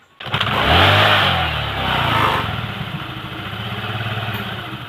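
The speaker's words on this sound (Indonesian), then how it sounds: "Oke, motor kita hidupkan." A Honda Vario scooter that stutters and cuts out starts with a quick turnover, then settles into a steady close idle with a brief swell in revs early on.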